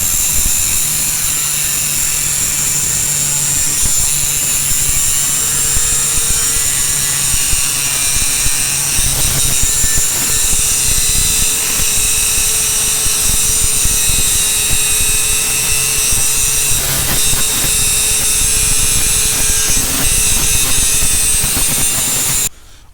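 An angle grinder cuts a 45-degree groove into 1/4 inch steel sheet for a Caterpillar D2 belly pan, a loud, continuous harsh whine and rasp that runs steadily without pause before cutting off abruptly at the end.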